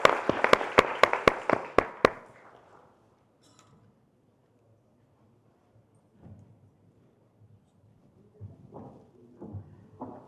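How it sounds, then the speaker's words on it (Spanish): At a presentation of household survey results by a national statistics institute, a handful of sharp, evenly spaced claps ring out close by. They stop after two seconds, leaving near silence with faint rustling and distant murmurs. "Un fuerte aplauso, por favor."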